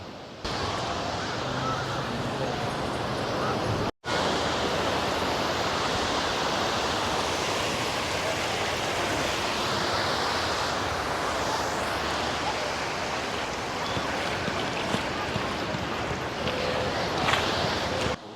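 Continuous broadband rush of sea waves and cool breeze on Puri beach at sunset, a dense wash of noise with one brief dropout early on, steady and close throughout.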